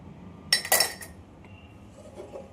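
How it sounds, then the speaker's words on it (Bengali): A fork mashing hot roasted pointed gourd on a plate gives a quick cluster of sharp, close metallic clinks, then fades to near quiet. "পটল পোড়া হয়ে গেছে, একটু গরম তো, ওই জন্য কাঁটা চামচ দিয়ে মাখছি"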